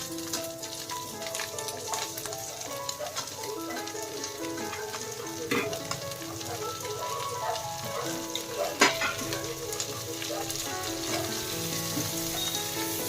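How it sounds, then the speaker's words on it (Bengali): Chopped onions sizzle in hot oil with whole cumin, cinnamon, cardamom, cloves and bay leaf, a steady close crackle broken by sharp pops and the occasional scrape of stirring, with no voices. "চপড করে রাখা পেঁয়াজগুলো দিয়ে দিচ্ছি।"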